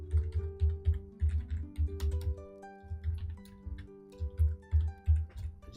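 Computer keyboard typing, quick irregular bursts of key clicks up close, with a sustained tonal music-like background beneath.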